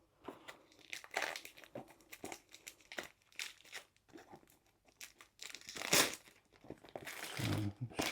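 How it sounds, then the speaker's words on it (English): Cellophane wrapping being pulled and torn off a sealed diamond art kit box, with close, busy crinkling and crackling that comes in uneven bursts, growing louder toward the end. "So the box is sealed in cellophane, so the first thing we have to do is open it."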